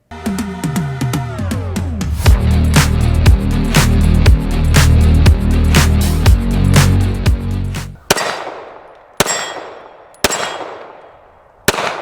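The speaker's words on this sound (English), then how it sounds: "show some shooting footage because I put quite a few rounds through this" A Taurus GX2 9mm pistol fired at a range: after a noisy musical stretch, four sharp, loud gunshots ring out alone at roughly one-second intervals, each with a trailing echo.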